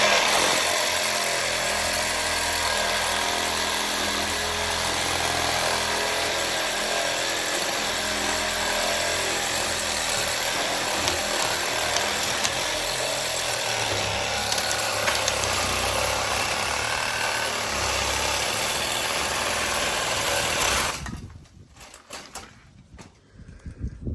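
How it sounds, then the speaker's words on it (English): Battery-powered Sawzall reciprocating saw cutting branches, a steady loud buzzing drone running continuously for about twenty seconds before cutting off near the end. "I grab my little battery powered sawzall, reciprocating saw"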